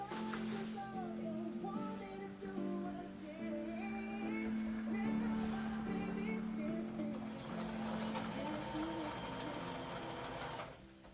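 A sewing machine stitches a winter camping quilt with a steady, close mechanical whir that runs almost the whole time, briefly changing pace, while a person talks over it.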